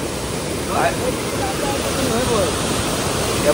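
Rushing floodwater during heavy monsoon rain in the Konkan, a steady, loud broadband roar like a waterfall with continuous turbulence throughout, and faint voices partly audible beneath the torrent.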